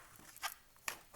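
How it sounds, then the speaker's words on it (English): Tarot cards shuffled by hand in a few short, crisp riffling bursts, close and fairly quiet, with brief pauses between them. "shuffle 3 times."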